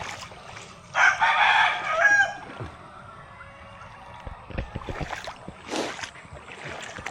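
A rooster crows loudly once, a harsh stretched call, followed by softer clucking and scattered rustling noises in the background, during a flood.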